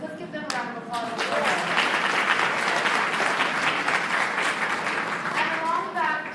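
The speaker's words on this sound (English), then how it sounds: "So let's give them a round of applause." An audience breaks into a sustained round of applause, dense clapping that swells and holds for several seconds, with voices briefly audible at the start and end.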